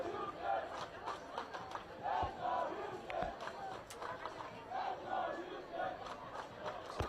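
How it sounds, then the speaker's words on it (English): A stadium crowd at a night MLS Next Pro soccer match at Rock Chalk Park roars and chants in swelling waves, distant and reverberant, with scattered shouts and whistles rising over the general din. "Crowd certainly into it tonight at Rock Chalk Park"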